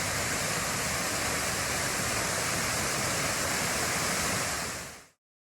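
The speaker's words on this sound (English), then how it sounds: "a waterfall." Loud, continuous roar of falling water, a thick steady rush that holds for several seconds before cutting off abruptly.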